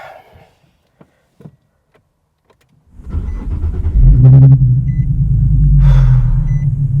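A 2017 Nissan 370Z engine kicks in after a few seconds of near silence, then settles into a loud, steady low rumble with rising revs as the car pulls away, close and alone without talk.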